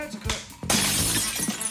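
Glass shatters into a bright, sudden crash that rings out over a voice speaking nearby.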